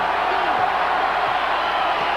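A basketball arena crowd of about 6,000 at a 1996-97 college game, UNM Lobos at Wyoming Cowboys, roars steadily and loudly throughout, a dense wash of cheering with no break.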